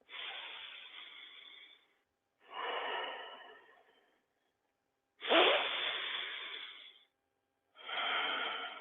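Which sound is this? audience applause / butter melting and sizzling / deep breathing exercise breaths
deep breathing exercise breaths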